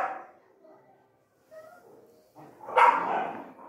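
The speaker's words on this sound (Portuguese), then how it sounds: "desculpa pelos cachorros" Dogs bark and yip playfully in short bursts, with a louder, closer flurry of barking near the end.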